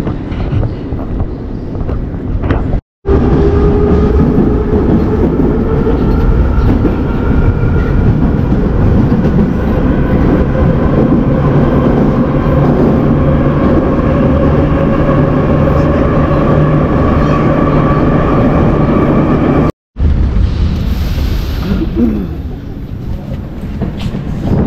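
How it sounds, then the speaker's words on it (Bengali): An old non-AC metro train runs through Novosibirsk, Russia, in winter, giving a loud, steady rumble with rising motor whine and rail rattle, broken by two brief dropouts. "এটা পুরোনো দিনের যে নন এসি মেট্রো ছিল"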